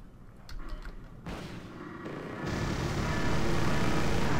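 Bombs dropped on a T-55 tank in the war game Wargame AirLand Battle land as a loud, rumbling blast that swells into a sustained roar after a few faint earlier pops.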